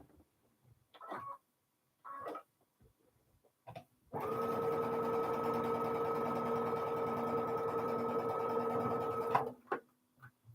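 Sewing machine stitching a quilt block, a steady whirring motor run lasting about five seconds, preceded by a few short bursts of handling noise and followed by a brief click.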